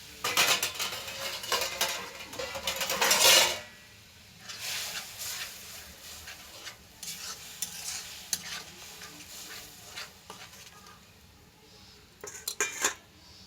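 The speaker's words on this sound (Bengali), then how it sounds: "ভালোভাবে মশলা আমরা কষিয়ে নেব।" Spice paste stirred and fried in a pan, with close metallic scraping of a utensil against the pan over a soft sizzle, a loud burst of stirring early on, then quieter intermittent scrapes.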